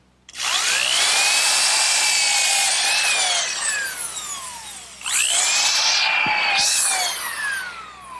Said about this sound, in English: pre-drill a hole using this bit, which gives me a countersink for the screw heads